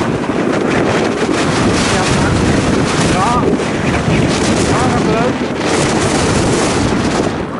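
Steady, loud wind buffets the microphone on a road trip through Hà Tĩnh toward Vinh city in Vietnam, a constant roar with someone talking over it throughout.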